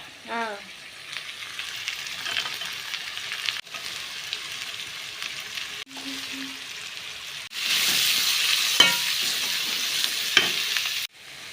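Onions and vegetables frying in a hot pan, a steady sizzling hiss that grows louder midway, with spatula scrapes and stirring knocks scattered throughout.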